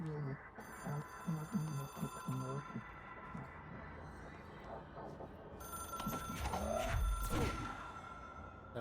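A telephone rings in the video game Control, its bell trilling in repeated bursts at moderate volume over game ambience, with a person talking through part of it.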